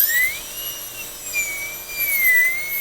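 High-speed dental drill with a burr cutting a Class II preparation on a tooth, a close, piercing whine that rises and dips in pitch as the cutting load shifts, running steadily throughout.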